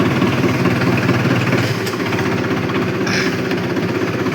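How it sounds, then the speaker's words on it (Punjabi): A tractor engine runs at a steady, loud, close idle on a farm, with a continuous low rumble and mechanical knocking throughout. "ਟਰੈਕਟਰ ਕਰ ਲਿਆ ਆਪਾਂ ਸਟਾਰਟ"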